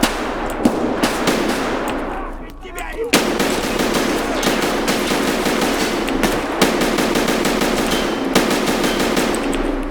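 ADAR 2-15 assault rifle fire in Escape From Tarkov, with loud sustained bursts of rapid shots after a short pause and faint talk in the background.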